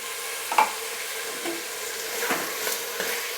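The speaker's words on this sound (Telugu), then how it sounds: "ఇప్పుడు ఇది మనకి అల్లం వెల్లుల్లి పేస్ట్ ఏదైతే ఉంది ఇది పచ్చి వాసన పోయేదాకా బాగా ఫ్రై చేసుకోవాలి." Ginger garlic paste and tomatoes fry in a pan for tomato rice, giving a steady, even sizzle close by with a couple of soft stirring knocks and no voices.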